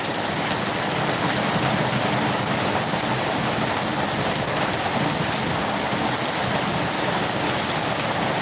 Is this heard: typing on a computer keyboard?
no